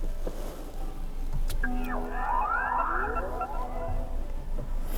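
Startup chime of a MINI Electric car: rising and falling electronic sweeps with sustained tones, close and moderately loud over a steady background hum, without speech.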